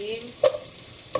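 Garlic sizzles in a pan as it is stirred, with a soft, steady frying hiss and a couple of short scraping clinks from the utensil.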